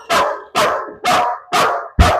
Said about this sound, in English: the dog should run to that door, bark like crazy